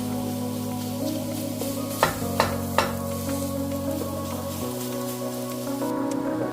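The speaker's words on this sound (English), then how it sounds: "In a hot skillet, add 1 pound of ground beef. Brown and chop your ground beef." Ground beef browns and is chopped in a hot skillet, a steady sizzle with a few sharp spatula taps against the pan, under a constant low hum.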